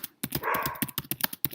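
A pet dog barks in short repeated bursts, with a longer whining yelp in the middle, fairly close and loud in an indoor room, reacting to a mail carrier arriving; no voices.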